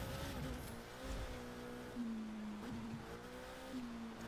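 Alfa Grand Prix racing car engine in The Crew 2 video game, a steady droning hum with gently shifting pitch that stays fairly quiet and continuous throughout.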